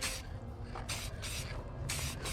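Chrome spray paint misted onto a car rim in light coats over black, several short hissing bursts from an aerosol can with brief gaps, close but fairly quiet.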